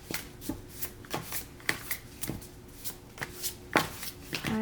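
Tarot cards being shuffled by hand, a run of soft riffling bursts repeating every half second or so, close and fairly quiet, with no talking.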